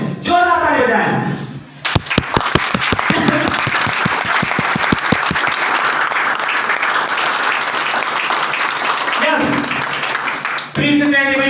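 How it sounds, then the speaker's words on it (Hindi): A seminar audience rises from their chairs and claps loudly together at an IMC Shree Tulsi product demo event; dense, sustained applause with sharp individual claps near the start fills most of the stretch, with a voice over a microphone at the edges. "जोरदार अपने कुर्सी पास खड़े होकर साथ में जोरदार ताली बजाएं।"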